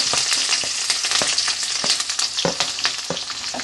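Coconut pieces crackle and sizzle in hot oil while cooking a kovakka (ivy gourd) stir-fry, a steady loud frying hiss with scattered sharp pops close by, no voices.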